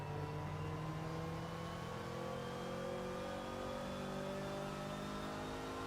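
Toyota car engine in the Forza Horizon 4 racing game, a steady droning rev with rising and falling harmonic tones as the throttle lifts, continuous and fairly quiet with no talking.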